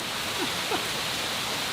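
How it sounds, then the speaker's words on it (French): Rain falls steadily outdoors as a soft, even hiss of drops that fills the moment at a moderate level. A couple of faint chirps sit in the background. "c'est juste qu'il pleut"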